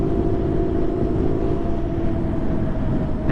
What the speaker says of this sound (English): I think my tire pressure is low. I'm making like some serious road noise.